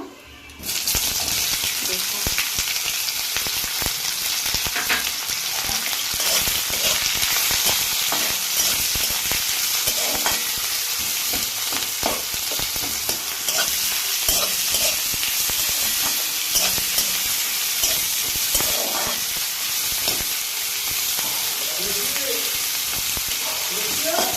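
Steady, loud sizzling of onions frying with panch phoron in a hot pan, with occasional stirring clicks throughout and no talking.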